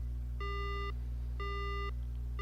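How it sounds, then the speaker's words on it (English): A dead phone line in the horror game Death Mark: three flat electronic tones, each about half a second, repeat at an even pace against a steady low hum, the last one cut short. "The phone goes dead."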